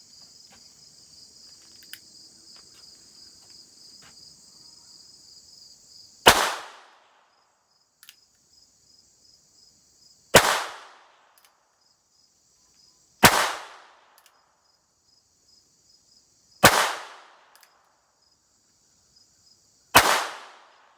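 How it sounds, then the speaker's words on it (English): Five sharp shots from a North American Arms .22LR mini revolver fired slowly at a target 15 feet away, spaced a few seconds apart over steady high-pitched insect chirping. "I'm going to be shooting just slow, steady, as accurate a shots as possible."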